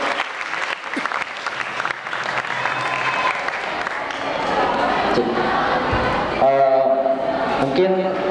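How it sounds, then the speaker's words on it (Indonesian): Student audience at a university campus election event clapping and cheering, loud crowd applause with shouts rising toward the end and voices mixed in through the noise. "Tepuk tangan dulu untuk calon ketua BEM"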